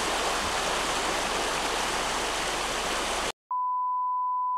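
Class 6 whitewater rapids on Morgan Creek roar as a dense, continuous rush of water, then a brief gap leads into a steady electronic beep tone.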